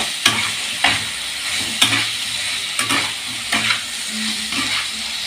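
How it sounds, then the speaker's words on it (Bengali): Spices and salt fry with a steady sizzle in a pan, while a utensil stirs and scrapes through them in regular strokes about once a second, close and fairly loud. "এবার আমি একটু নাড়াচাড়া করে সব শুদ্ধ কষিয়ে নেব"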